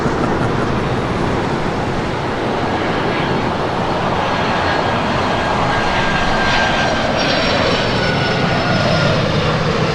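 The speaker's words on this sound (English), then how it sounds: "The Lufthansa Queen now starting her taxi." Lufthansa Boeing 747 taxiing at Los Angeles International Airport: a loud, steady roar and whine of jet engines, broad and continuous, with a faint rising tonal hum over the rumble and no speech.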